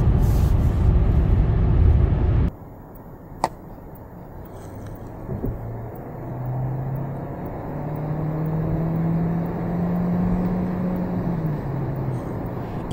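Steady low road rumble and wind hiss inside the cabin of a Kia Sportage 1.6 T-GDi hybrid GT-Line with 6-speed automatic and AWD while driving. A louder broadband roar at the start drops to a quieter constant drone.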